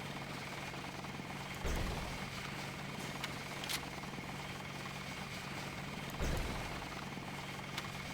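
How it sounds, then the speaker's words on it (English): An attack helicopter in the video game Deus Ex drones steadily at low volume, a continuous rotor hum with two brief heavier thumps partway through and no voices. "They have an attack helicopter."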